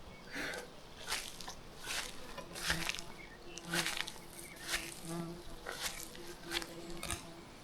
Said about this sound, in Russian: шершень атакует